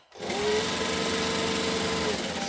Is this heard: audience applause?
no